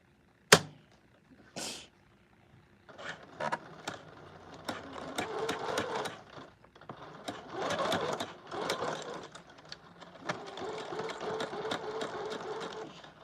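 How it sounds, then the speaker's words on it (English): A sewing machine stitching along the edge of a fabric leash, running in several short bursts of rapid whirring stitches separated by pauses and clicks, close and fairly loud. "now I'm going to sew this part, the edge of the leash"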